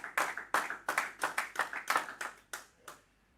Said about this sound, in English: Them clap.